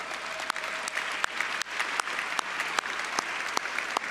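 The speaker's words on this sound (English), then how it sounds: "So Debbie, stand up and get a well-deserved round of applause." A gala audience applauds in a sustained wash of clapping, with a few sharper individual claps standing out, steady and fairly loud throughout.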